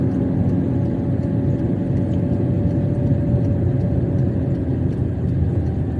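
Constant low engine rumble and road roar from inside a 2021 Hyundai Santro driving along a straight road, a steady, loud drone with a faint tonal whine and no voices.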